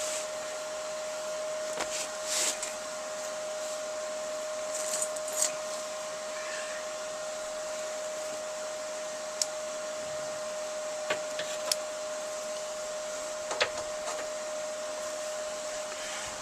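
Tack welding on a Volkswagen T25 van body: a handful of short, sharp crackling bursts spaced several seconds apart over a constant hissing hum nearby.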